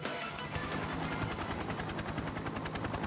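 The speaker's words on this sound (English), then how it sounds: "Simultaneously, the faint sound of a helicopter becomes evident." A helicopter in Persona 4 Arena Ultimax approaches with a dense, rapid rhythmic chopping of rotor blades, loud and constant throughout, with no voices.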